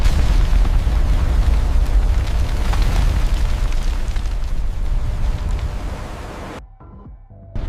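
A ship blowing up gives a loud, sustained roaring blast that rumbles for several seconds and then cuts off abruptly into near silence.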